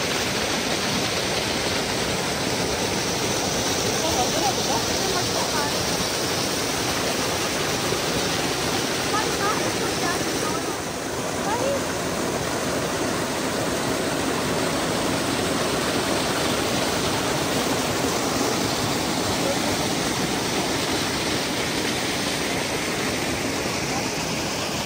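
Continuous broadband rush of water flowing through a cool mountain valley in Pakistan, steady and fairly loud throughout, like a stream or small waterfall close by, with no clear voices over it.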